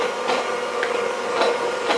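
Electric mixer whisking egg whites as sugar is poured in for a hazelnut cake, a steady whirring hum at half speed with faint rhythmic clatter against the bowl, close and continuous.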